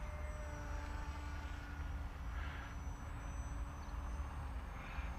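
A Skywalker Mini Plus RC plane cruises at half throttle, giving a steady, fairly faint motor drone that holds evenly throughout against some outdoor noise.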